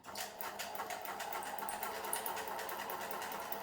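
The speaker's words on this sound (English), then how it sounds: "I'm going to sew." A sewing machine runs steadily, stitching fabric while practicing a zigzag with an abrupt change of direction, a continuous rapid mechanical whir lasting the whole short stretch with no talking.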